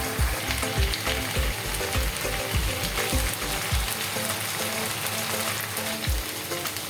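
Chicken fries in green masala on low heat under a steady sizzle, while rapid ratcheting clicks run for the first few seconds and then recur once.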